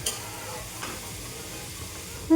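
Chopped bitter gourd with tomato frying and being stirred in a pan, a soft steady sizzle with faint scraping stirs, fairly quiet and alone.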